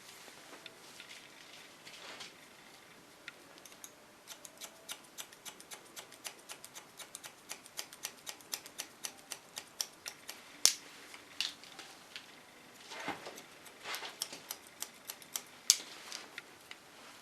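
Scissors snip through hair while a short asymmetrical pixie cut is shaped, making a dense run of crisp, close metallic clicks that quicken and grow louder midway, with no talking.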